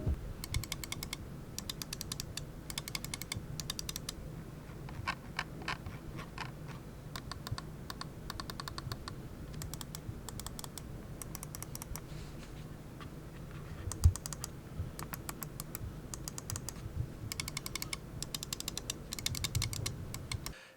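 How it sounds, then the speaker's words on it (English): Rapid button clicks on a Razer Viper Ultimate wireless gaming mouse, sharp close ticks in dense irregular bursts throughout, fairly quiet with no talk. "there is quite a loud click when you're clicking down on it"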